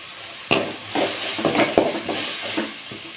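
Tomatoes frying in a pan with turmeric, garam masala and chili powder, a steady close sizzle with several stirring scrapes and bursts of hiss, no talking.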